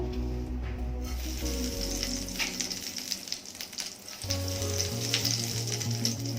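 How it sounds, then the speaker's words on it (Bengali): Whole spices for tempering hit hot oil for a dry okra and potato curry, giving a steady, close, continuous crackling sizzle over a faint low tonal hum. "তেল গরম হয়ে গেছে, ফোড়নটা দিয়ে দেবো।"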